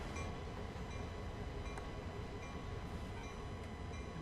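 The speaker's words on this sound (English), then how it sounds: "Oh, there's actually a train just ahead of us there." Train rumbling along the rails in the video game Train Sim World, a steady dense roar heard from the cab with faint clicks, continuous and fairly quiet.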